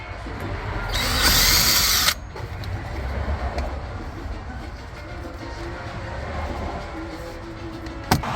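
Power drill backing screws out of silver interior trim on a 2003-08 Mercedes-Benz SL55, one loud whirring burst of about a second close up, followed by quieter handling clicks and rustle.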